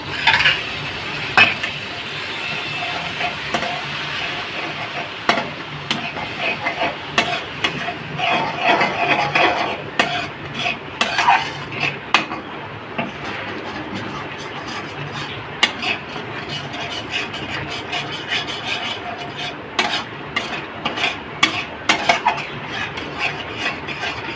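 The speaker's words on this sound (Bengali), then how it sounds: "ফাটানো দইটা দিয়ে দিচ্ছি দিয়ে একটু নাড়বো" Whisked curd being stirred into a cooking pan for a vegetarian potoler dorma: repeated scraping and clinking of a spoon against the pan, uneven and close, with no talking.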